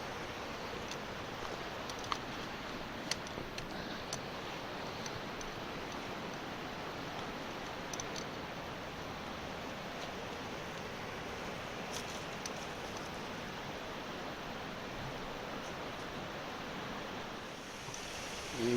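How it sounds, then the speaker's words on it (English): Small mountain stream beside a West Virginia hiking trail near Brush Creek Falls, a steady broadband rush of running water close by, continuous and even throughout with no talk. "this little mountain drain runs right along the trail"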